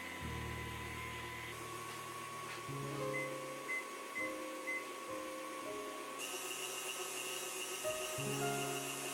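An electric mixer runs at medium speed, beating German Christmas cookie dough, with a steady, fairly loud motor whir that holds on continuously and shifts slightly in pitch partway through.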